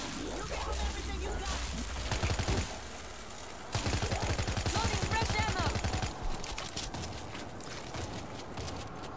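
Rapid bursts of gunfire from a gun in the zombie shooter World War Z, loud and close with repeated automatic volleys separated by short gaps, with voices talking over parts of it.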